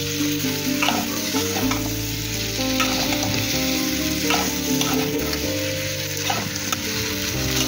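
Sliced potatoes and tomatoes fry in a pan for aloo katli, a constant close sizzle with the scrape and knock of a spatula stirring through it at a regular, unhurried pace.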